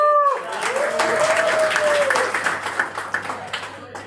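Seminar audience clapping in a hall in Ahmedabad, Gujarat, a short burst of applause that tapers off within a few seconds, with a voice and a tonal sound at the start.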